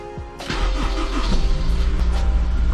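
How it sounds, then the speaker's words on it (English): A Honda S2000 engine with old spark plugs cranks over with the gas pedal fully pressed, the starter churning rhythmically before catching and settling into a rough, steady running rumble, loud and close. "I'm going to crank it over about 5 to 7 times with the gas fully pressed in"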